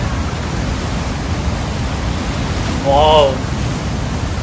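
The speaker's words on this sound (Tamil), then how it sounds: "பாருங்கள் எவ்வளவு வேகமாக அருவி அந்த இடத்துல விழுந்து வருகிறது" Rhine Falls roars up close as heard from a boat, a dense, steady rushing wash that fills the whole clip, with one brief exclaiming voice partway through.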